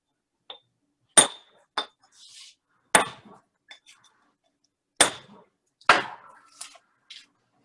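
A steel chisel strikes hard, dense stone in an artist's studio, giving about six sharp, ringing clinks spaced irregularly over several seconds, each fading quickly, with no talking over them.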